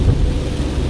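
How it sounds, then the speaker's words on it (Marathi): Heavy rain beats on a car driving through the Lonavala ghat, a loud, dense, continuous roar of water with a deep rumbling undertone and no pauses. "एवढा पाऊस आहे बघा"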